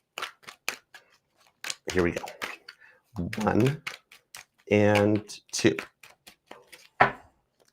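Quick papery riffles and taps of a tarot deck being shuffled, in short bursts between a person talking close by.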